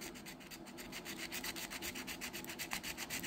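Folded sandpaper rubbing a Tyco Century 430 Spirit of '76 model locomotive part, a steady close-up rasping scrub in quick back-and-forth strokes with no talking.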